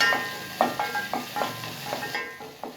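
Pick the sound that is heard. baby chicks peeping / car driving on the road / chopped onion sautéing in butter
chopped onion sautéing in butter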